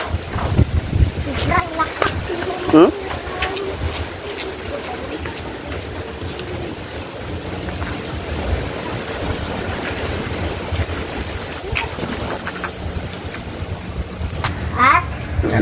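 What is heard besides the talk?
wind blowing at the coast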